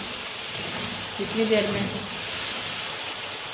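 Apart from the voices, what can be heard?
green peas frying in a pan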